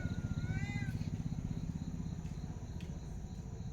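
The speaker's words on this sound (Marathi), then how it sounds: "पप्पा मांजराला घेऊन आलात" A cat gives a short rising meow near the start, heard over a loud, steady, pulsing mechanical throb that runs through the whole moment.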